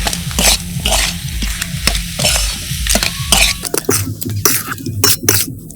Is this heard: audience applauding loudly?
no